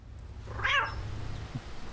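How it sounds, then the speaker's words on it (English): A cat meows once in the video game Café Owner Simulator, a short clear mew over a soft steady background hum. "You could be nice to the cat."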